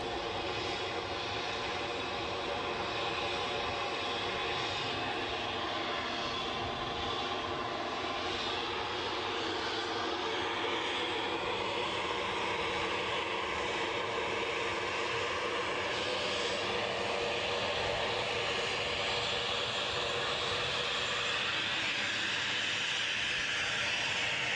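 An airplane taking off at Edinburgh airport, a broad sustained engine roar that holds loud and steady throughout, heard from some distance with no talk.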